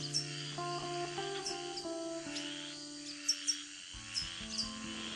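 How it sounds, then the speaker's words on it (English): Frogs calling at night at the edge of an Amazon river, a steady layered chorus of tonal croaks and pulses with sharp high chirps scattered over a dense, moderately loud insect-like background. "Again the frogs call,"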